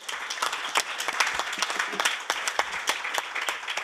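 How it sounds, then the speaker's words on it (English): A conference audience applauds a panel, dense close clapping throughout at moderate loudness, alone. "I want to invite everyone to give a big round of applause of our panel"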